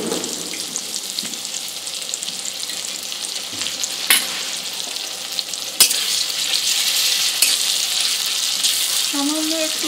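Onion, garlic, tomato and ginger paste fry in a pan, giving a steady, close sizzle with a few sharp stirring knocks and scrapes. No one speaks.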